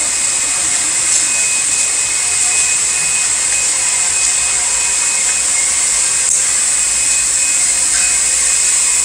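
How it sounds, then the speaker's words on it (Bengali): A Komori printing machine used to print large sheets of paper runs continuously, producing a loud, steady mechanical roar and whir with no pauses. "মেশিনটার নাম হচ্ছে কুমোরি মেশিন।"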